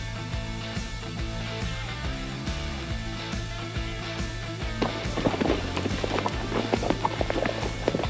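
Horse hooves clip-clop steadily along a horseback ride through Wyoming elk-hunting country, a close, rhythmic walking beat that grows busier and louder in the second half, with no talking.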